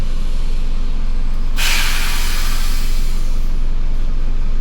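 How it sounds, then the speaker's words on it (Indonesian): A bus handbrake air brake releases with a single sharp, loud hiss that bursts out partway through and tails off over the idling engine rumble heard from inside the bus. "itu bunyi rem tangan"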